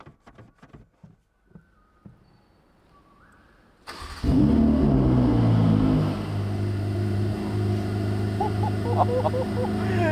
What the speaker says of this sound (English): I think first we're going to start that engine off, AJ.